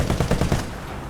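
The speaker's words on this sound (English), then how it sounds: "That's why I'm shooting." Short burst of machine gun fire from a tank in War Thunder, a few quick rattling shots that fade after about half a second, fairly close.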